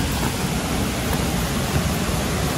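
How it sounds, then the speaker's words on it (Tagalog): Heavy rain and strong wind during a storm over a garden, a loud, constant roar of downpour and gusts with no pauses. "Lakas nung ulan, lakas pa nung hangin."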